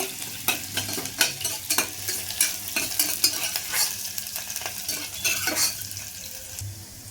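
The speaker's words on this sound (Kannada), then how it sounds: "ಮಾಡಿ ಚೆನ್ನಾಗಿ ಮಿಕ್ಸ್ ಮಾಡಿ, ಸ್ವಲ್ಪ ಲೈಟ್ ಬ್ರೌನ್ ಆಗಬೇಕು ಈರುಳ್ಳಿ ಎಲ್ಲ." Chopped onions stirred and fried in a pan, a continuous sizzle broken by repeated scraping and clacking strokes of a spoon against the metal, close and without talk.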